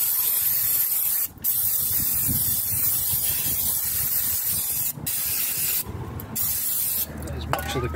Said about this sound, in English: Okay, so standard brake cleaner.